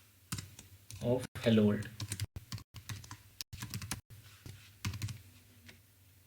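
Computer keyboard typing JavaScript code, bursts of clicking keystrokes mixed in with someone speaking over them, close and moderately loud.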